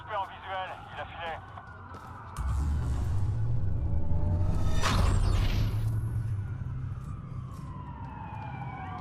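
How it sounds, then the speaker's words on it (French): Police sirens wail over a rumbling engine and game-like ambience in Watch Dogs, following a few brief voice fragments at the start. "Ça fait beaucoup de sirènes pour une coupure."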